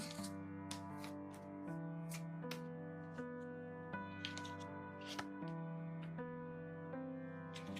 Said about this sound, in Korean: 추가 카드를 더 뽑아보도록 하겠습니다